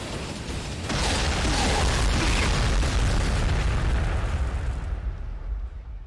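Artillery pounds targets in the Warhammer 40,000: Sanctus Reach battle game, a loud rolling barrage of booms and explosions that rumbles on continuously before thinning out at the end.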